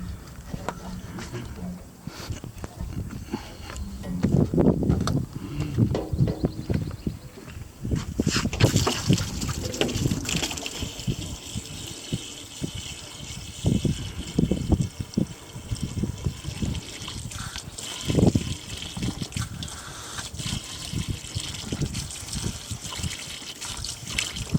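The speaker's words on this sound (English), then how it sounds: "the water hose. I got it right here." Water running from a garden hose, a steady trickling and splashing stream that continues throughout, with brief bursts of heavier gushing and occasional clatter nearby.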